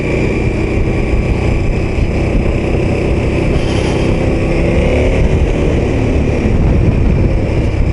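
A KTM 1290 Super Adventure S motorcycle engine runs with a steady, loud, continuous drone that holds even throughout, with no voices over it.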